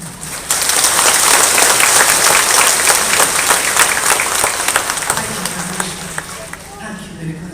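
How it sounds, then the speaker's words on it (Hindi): A church congregation breaks into loud, sustained applause at a Bible message gathering, dense clapping that swells quickly, holds, and then tapers off as a voice resumes speaking. "और अब हम अपने परमेश्वर के लिए ऐसी ताली बजाएं जैसे हमने पहले कभी नहीं बजाया।"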